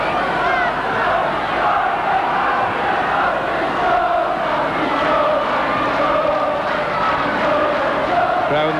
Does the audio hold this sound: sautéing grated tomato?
no